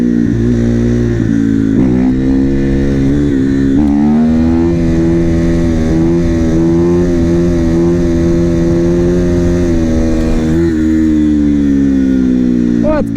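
Supermoto motorcycle engine running with strong rising and falling revs, loud and close throughout, a steady harmonic drone that climbs and settles between throttle blips.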